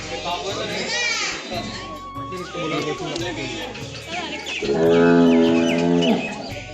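A deep, drawn-out moo from a big-horned cow at Mayapur swells up near the end, loud and close, with children and adults chattering throughout.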